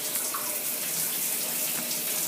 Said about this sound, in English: Cold water is coming out.